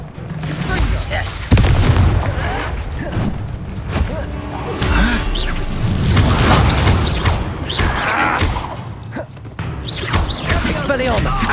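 Incendio fire spell cast in combat in Hogwarts Legacy, a dense barrage of booming, crackling blasts and thuds continuing without pause, loud and close, mixed with shouted voices and other spell effects.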